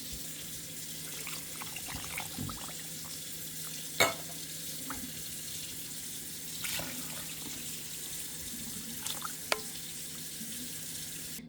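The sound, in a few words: filling tomato cans with water, pouring into pot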